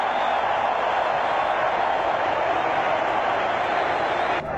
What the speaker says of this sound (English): Big crowd here at Eden Park